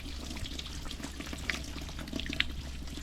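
Tap water runs steadily over a raw duck being skinned and cleaned in a sink, a continuous close splashing trickle with a few brighter spatters, no talk.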